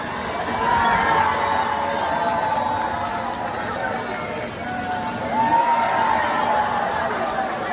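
Cheering and shouting rise from a crowd at a Disney park, a dense mix of excited voices and babble that dips briefly midway and then swells again.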